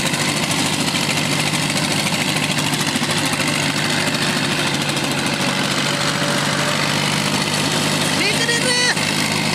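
A tractor engine strains as it pulls a loaded trolley up a steep slope, a steady loud rumble and throb running the whole time with faint voices under it.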